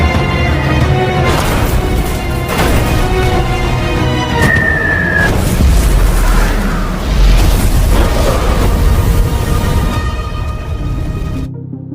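Loud, dense rumbling and crackling like continuous Korean War battlefield explosions fill the whole stretch, with a brief whistling tone partway through and the roar fading at the end.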